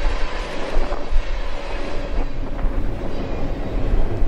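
A freight train made up of hopper and tank cars rolls past, giving a steady, loud, broadband rumble with faint rhythmic wheel clatter throughout and no talking.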